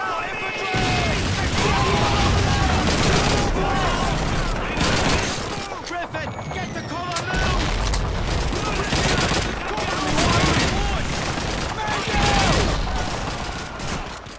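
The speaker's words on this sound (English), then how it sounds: "There's an MG-42 on the second floor!" Bursts of MG-42 machine gun fire in the World War II shooter Call of Duty 2 rattle continuously, loud and dense, with explosions, game effects and voices layered throughout.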